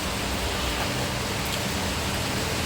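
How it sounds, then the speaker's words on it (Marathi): Steady, dense hiss of rain falling, even and unbroken throughout, with no voices or other distinct sounds on top. "बघा पाऊस पडतोय"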